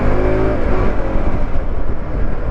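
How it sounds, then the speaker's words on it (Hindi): A Bajaj Pulsar NS motorcycle engine revs hard under acceleration, a loud, close, continuous droning roar with the pitch shifting as it pulls, with no voices. "थोड़ा मोटर का जो साउंड है वो भी थोड़ा क्लीन फील हो रहा है मुझे"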